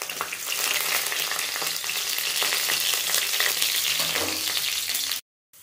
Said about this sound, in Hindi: हमारा ऑयल गर्म हो चुका है, अब इसमें मैं 5 फोरन डालूँगी, लहसुन मिर्च ये सारे डाल देती हूँ